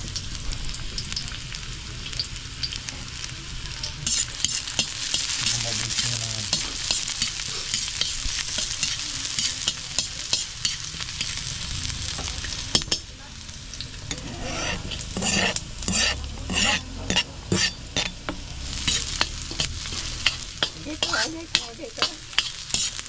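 Garlic fries in a pan with a steady, dense sizzle, and stirring scrapes break through at intervals, sharper and more frequent in the second half. No one speaks.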